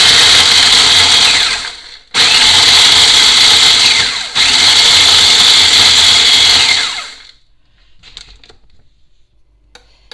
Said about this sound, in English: we're going to pulse this until these cookies are fine